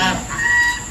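A desi hen clucks close by in a short, loud burst of a few squawking notes with nobody talking.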